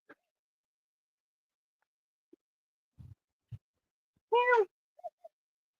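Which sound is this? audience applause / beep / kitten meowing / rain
kitten meowing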